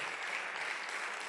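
Applause from a church congregation at a midweek Bible study service, a steady dense patter of many hands clapping together, fairly faint, with no voices over it.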